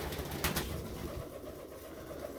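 Pigeons coo inside a loft, a soft, low burble with a brief louder flutter near the start, heard alone against quiet room noise.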